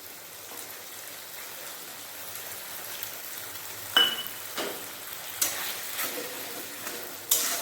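Spice paste of ginger, garlic, mustard and poppy seed fries with water in a pan, a faint, steady sizzle broken by a few sharper stirring scrapes.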